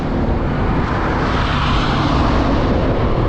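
A steady, loud 2023 Honda ADV 160 scooter engine roars close by with heavy wind rush, an unbroken ride over a bumpy, potholed road with no talking.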